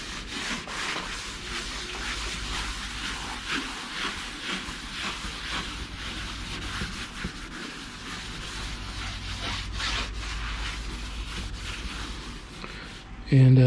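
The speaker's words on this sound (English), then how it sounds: "I'm going to wipe it all down with some mineral spirits." A cloth rubs steadily back and forth over a sanded fiberglass tonneau cover, wiping it down with mineral spirits in continuous, fairly faint strokes, ending with a brief louder knock.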